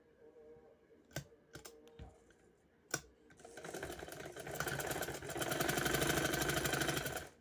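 An electric sewing machine stitches lace onto fabric, starting with a few sharp clicks and knocks before its motor whirs up into a steady, fast, close-up rattle that runs to the end without any talking.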